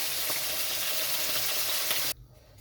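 Potato pieces frying in hot oil give a steady, dense sizzle close by for about two seconds, then it drops abruptly to a faint low crackle.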